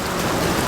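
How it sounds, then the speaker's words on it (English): Heavy rain pours steadily during a power and water outage storm, a dense continuous roar of drops hammering surfaces close by, with no voices over it. "it's raining even harder."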